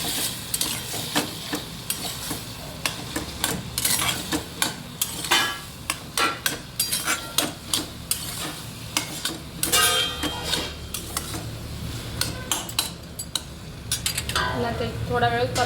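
Spoon stirring a vegetable bhaji in a pan after water and gram flour are added, with repeated scraping and clinking strokes against the metal over a soft sizzle.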